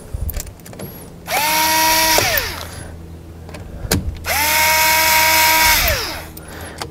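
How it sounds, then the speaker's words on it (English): Two long bursts of whirring, whining motor noise from a powered screwdriver driving a screw on the sliding door lock actuator of a 2015 Honda Odyssey, each run rising and then winding down, loud and close, with short clicks between. "Take your screwdriver, put a little bit of torque on there."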